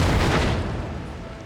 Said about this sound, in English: Explosion noise.